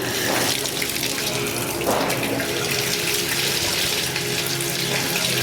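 Tap water runs steadily into a basin during wudu ablution as water is scooped by the right hand for rinsing the mouth, a continuous close splashing stream with no pauses.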